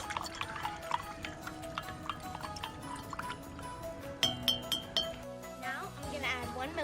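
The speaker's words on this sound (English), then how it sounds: "now I'm just putting that in the bromothymol blue beaker and mixing it up using a wooden splint" A wooden splint stirs bromothymol blue indicator mixed with ammonia inside a glass beaker. Light, repeated clinks against the glass come close up over a wet swirling sound, and a few sharper taps land near the end.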